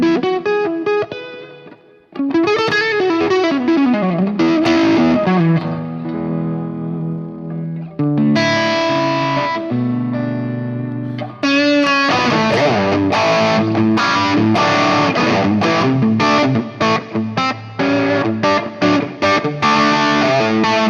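An electric guitar plays chords and lines through a Fractal preset based on a Bogner Fish tube preamp, distorted with reverb, ringing loud and sustained with a brief pause early on.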